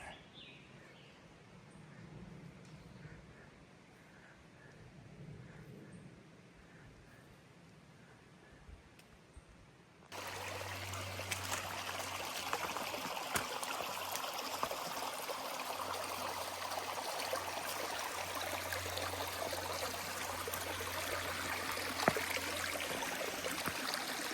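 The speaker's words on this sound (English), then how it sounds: "Nice little water flow here." A small stream of water flows beside a hiking trail on the Appalachian Trail, a faint distant trickle at first that jumps to a steady, louder rushing wash about halfway through, with birds faintly calling.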